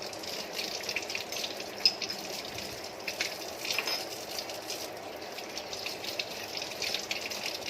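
Clean water poured over household shrine idols during a home puja for Aashadhi Ekadashi, a steady splashing gush with light rattles that continues evenly throughout at moderate level.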